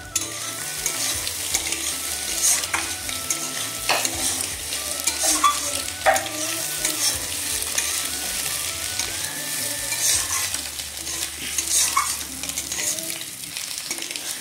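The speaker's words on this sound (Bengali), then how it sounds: "ভাজা ভাজা হয়ে গেছে ডিমের ভর্তা" Egg bharta fries and is stirred in a pan, a continuous close sizzle with repeated scraping strokes of a utensil throughout.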